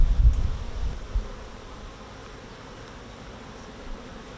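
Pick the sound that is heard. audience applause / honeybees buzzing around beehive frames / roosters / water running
honeybees buzzing around beehive frames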